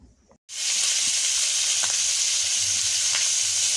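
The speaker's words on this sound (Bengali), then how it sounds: "আমি মাছ ভাজি করছি" Fish frying in a pan in a village kitchen, a loud continuous hiss and sizzle that bursts in suddenly after a quiet moment and holds steady, with faint clinks underneath and no talking.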